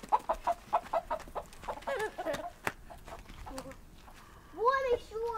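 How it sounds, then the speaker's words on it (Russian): Broiler chickens cluck in quick repeated bursts close by, then a louder squawk near the end, with people talking faintly in the background. "Да, они все бройлерные цыплята."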